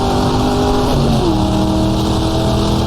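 Racing cars from the GTR2 sim at a wet 1966 Monza 1000km race roar past under the oval, a dense loud engine drone with pitch shifts as one car sweeps by.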